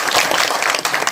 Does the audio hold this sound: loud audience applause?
yes